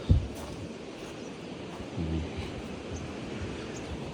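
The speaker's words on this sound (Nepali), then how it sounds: "यतापट्टि खोला बगिरहेको।" A mountain river in Sindhupalchowk flows past with a cold morning wind, a faint, steady rushing wash with a small gust near the start and another around the middle.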